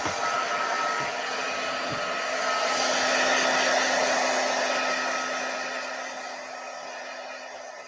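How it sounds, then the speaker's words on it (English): A craft heat tool blows hot air to dry paint, a steady loud whooshing hum with a constant tone that runs for about eight seconds and fades slightly toward the end, no talk. "I'm going to hit this with my heat tool to dry it a little before I do that"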